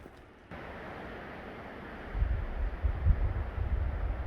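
Wind buffeting a microphone on a steep hillside, a soft steady rush that swells into louder, gusty low rumbles in the second half, with no voices.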